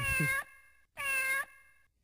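Two clear synthesized cat meows in close succession, each bright and tonal with a short decay, from the continue countdown of the 1992 Kaneko/Atop arcade game Shogun Warriors; no talking.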